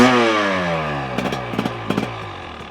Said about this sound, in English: And then we've got the 300 two-stroke here. He sounds like a two-stroke.